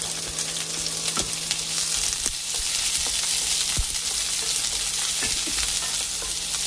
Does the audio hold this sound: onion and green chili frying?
yes